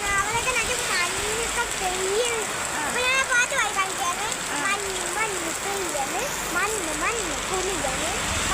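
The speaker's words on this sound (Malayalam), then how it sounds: "വലിയ കാറ്റത്രയ്ക്ക് ഈ മഴയത്ത്." Heavy rain falls in strong wind on the way to school, a steady broadband wash heard close and continuous while a person talks over it throughout.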